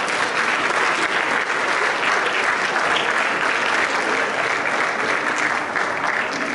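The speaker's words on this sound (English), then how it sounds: "Can we give them a round of applause, please?" Sustained applause from a school audience after a high school choir's winter concert, steady and dense with no talk over it.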